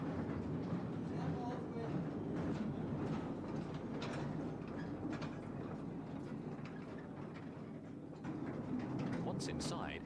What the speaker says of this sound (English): The small battery-powered train is well protected.